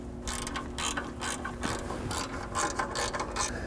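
A hand ratchet clicks steadily and rapidly, driving in fasteners on an exhaust heat shield of a 2000 Pontiac Montana 3.4L during exhaust manifold repair, close and continuous throughout.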